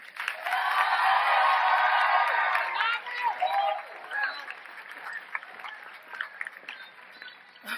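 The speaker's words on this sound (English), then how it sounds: "Ladies and gentlemen, please give a round of applause to our class of 2021 salutatorian, Miss Alana Lazzana." A high school graduation crowd applauds and cheers for the class of 2021 salutatorian: dense, loud clapping for about three seconds, then thinning into scattered claps and murmuring.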